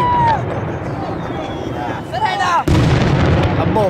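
Firework bombs booming at the Don Bosco festival fireworks in Lanusei, with dull rumbling blasts and one sudden loud burst near the end, heard amid an outdoor crowd with people talking and whistling tones rising overhead.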